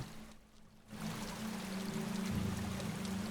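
Loud, continuous flow of water in the background of the Higurashi video game, starting after a short quiet gap and running steadily to the end without speech.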